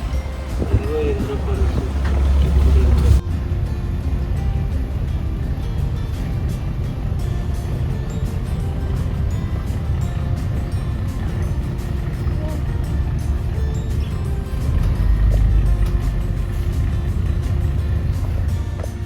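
A houseboat engine on the Alleppey backwaters gives a steady low drone throughout, with broadband rumble and wind noise, and people talking intermittently over it.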